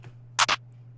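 Two quick clicks of a computer keyboard spacebar pressed in FL Studio, close and crisp against a quiet steady hum.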